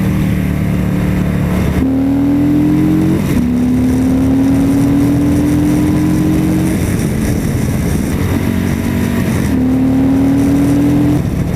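A 2018 Harley-Davidson Fat Boy motorcycle pulling under load, engine tone climbing through gears with brief dips at each shift, loud and close over steady wind rush.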